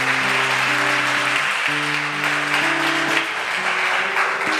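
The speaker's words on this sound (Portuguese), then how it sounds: "Dá um aplauso ao Senhor" A congregation applauds during a church service, a dense sustained wash of clapping with a steady sung or droning tone running underneath.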